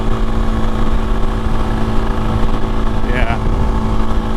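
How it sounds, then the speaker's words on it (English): Suzuki DRZ400 rally motorcycle with an FMF Q4 exhaust and 20,000 miles, heard as a steady, loud engine drone while riding, with a brief higher-pitched whine near the end. "The one thing with the quiet exhaust is I now hear engine noises I didn't know that I had"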